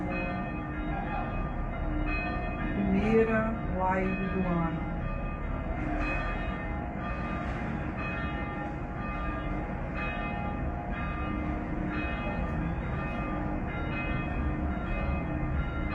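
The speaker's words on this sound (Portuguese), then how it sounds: "com o sino da igrejinha de fundo" A small church bell rings faintly in the background under a steady, dense ambient bed while a voice speaks briefly, the bell tones blending softly into the continuous sound throughout.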